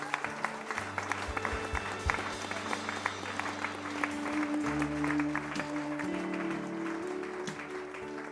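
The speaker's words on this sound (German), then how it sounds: "Komm, wir geben Ihnen einen herzlichen Applaus" A church congregation gives warm applause for a newly married couple during a service, faint clapping over sustained organ-like tones.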